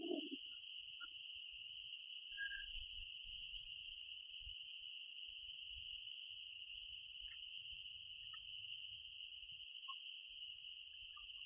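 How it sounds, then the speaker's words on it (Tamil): Crickets and other insects in a Western Ghats forest at night keep up two steady, piercing high-pitched trills that run unbroken throughout, with faint low rustles and a few distant chirps beneath. "அந்த பூச்சி, என்ன ஒரு பூச்சி கத்துது, அதோட சவுண்டு மட்டும் தான் கேட்குது"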